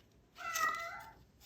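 A house cat lets out a single drawn-out meow, close and moderately loud, swelling and then fading over about a second in an otherwise quiet room.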